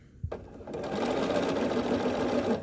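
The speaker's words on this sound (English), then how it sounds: "I will start sewing here." After a brief click, a sewing machine whirs in a steady continuous run while piecing an Ohio star quilt block, close and even, with no talk over it.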